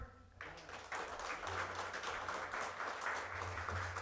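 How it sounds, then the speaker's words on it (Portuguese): A church congregation applauds steadily at a youth service, a broad wash of clapping with a low hum beneath it, carrying on throughout. "Uma salva de palmas para o Senhor."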